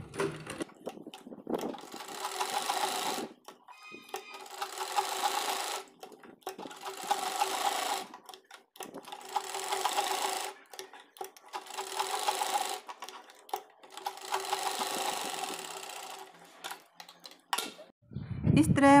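A sewing machine stitches a dhoti salwar in long runs of fast, steady whirring, broken by short pauses between seams, close and loud.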